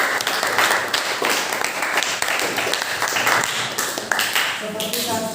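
Classroom applause from students during a lesson, a steady wash of many hands clapping close by throughout, with faint voices rising near the end.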